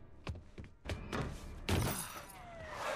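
Glass shattering in the video game Alan Wake Remastered, a sharp crash of breaking panes with scattered pieces tinkling afterward, preceded by a few dull thumps, fairly loud and close.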